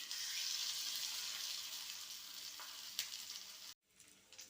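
Raw jackfruit slices roasting in a hot pan give a steady, close sizzle with faint stirring scrapes, fading slightly before a brief gap near the end, then resuming quietly.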